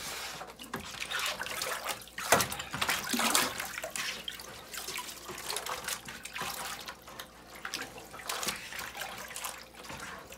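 Water runs and splashes steadily in a wash sink as plastic drip trays for grow containers are rinsed, a continuous close, sloshing stream with occasional louder splashes and no voices.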